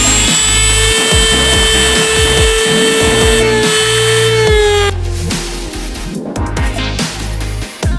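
A power tool whines at high speed, cutting into a part for an FK8 Civic Type R. The loud, steady tonal scream runs for about five seconds, then drops away into rougher grinding and clatter.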